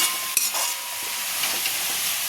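Masala for a chicken curry sautés in a pan as water from it cooks out, producing a steady, steamy hiss with a couple of faint stirring knocks near the start.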